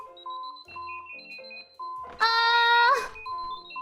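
An alarm clock sounds a loud, bright electronic ring in a burst of under a second, among beeping tones and background noise.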